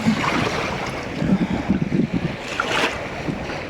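A gentle summer breeze blows steadily across an Adriatic beach, a continuous soft rush of wind over the mic mixed with low surf washing in the background.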